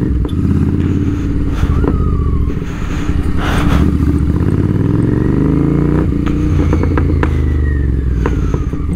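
A Royal Enfield Interceptor 650 with an aftermarket exhaust revs loudly and close by throughout, its engine roar rising and falling, with crackling pops and bangs on the overrun.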